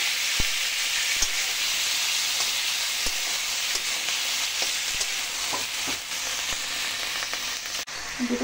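Chopped tomatoes dropped into hot oil tempered with dried red chilli, whole fennel seeds and bay leaf, a loud, steady sizzle and hiss with scattered stirring knocks throughout.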